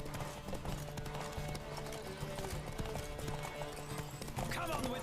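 Hooves of a galloping horse in The Witcher 3 beat out a continuous, quick clip-clop that runs through the whole stretch at moderate loudness.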